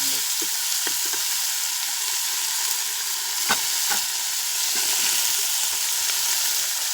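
Chopped onion, ginger and garlic fry in a pan of oil with cumin, giving a steady, close crackling sizzle with a few faint scrapes and pops, and no voices.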